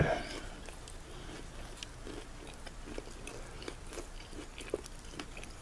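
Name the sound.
eating a Wilensky sandwich of beef bologna and salami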